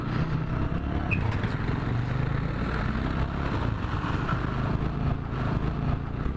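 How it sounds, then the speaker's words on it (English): A TVS Apache 200 motorcycle's engine runs steadily after starting on a battery left idle for 45 days. It gives a continuous, moderately loud, low rumbling drone with no talk. "I'm glad that my bike started even after 45 days."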